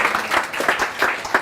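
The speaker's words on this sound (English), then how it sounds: "Give him a round of applause for that." Applause at a sales mastery seminar: a short, steady patter of many hands clapping together from the audience, loud and continuous with no voices over it.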